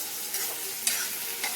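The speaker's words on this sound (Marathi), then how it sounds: "चला आता कांदा टाकायचा भाजायला. गॅस फास्ट करायचा आता." Onion frying in a pan over a high gas flame: a short, even hiss of oil with a couple of quick stirring scrapes, close and unaccompanied by speech.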